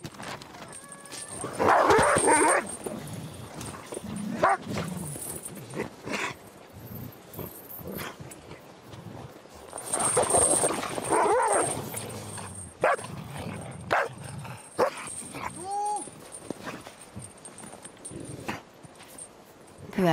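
Several sled dogs bark, yip and whimper in scattered bursts, with louder clusters of barking between quieter whines and some distant yelps.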